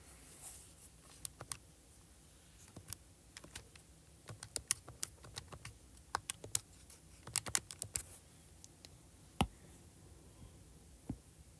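Soft, irregular clicks of buttons being pressed on a calculator while entering a calculation, quiet and close, scattered in uneven bursts over a low background hum with no talk.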